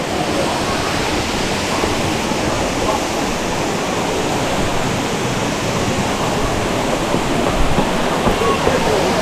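The waterfall on the Ingleton waterfalls trail, a loud, dense, continuous roar of falling water that stays steady and close, with voices faintly mixed in.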